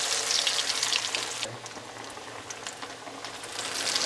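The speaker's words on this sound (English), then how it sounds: "when you're placing the chicken into the pan, you want to lay it away from you, okay?" Breaded chicken sizzles and bubbles in oil about an inch deep in a HexClad pan, giving a loud, steady frying hiss that eases a little partway through, with no talk.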